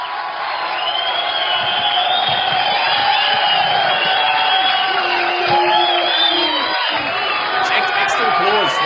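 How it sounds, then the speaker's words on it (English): Crowd cheering, whooping and yelling to celebrate a 100th podcast episode, a loud continuous roar with rising and falling shouts throughout. "Extra applause for the 100th episode."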